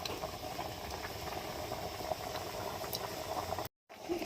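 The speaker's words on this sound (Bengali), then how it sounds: "জল ফুটছে" A pot of water with turmeric bubbling at a low, steady boil, soft and continuous, with a brief dropout near the end.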